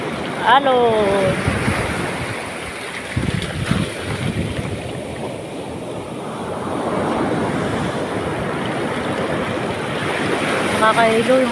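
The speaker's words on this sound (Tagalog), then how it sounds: "Nakakahilo yung alon." Sea waves surge and wash in a continuous broad rush with wind noise over the microphone, swelling midway, while a voice speaks briefly at the start and end.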